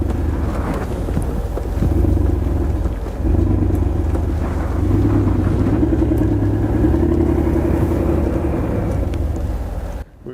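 Mercedes G-Wagon 4x4 Squared W463 crawling off-road in low range with locked differentials, a steady low engine drone with gear whine running close and continuous for about ten seconds, then cutting off abruptly.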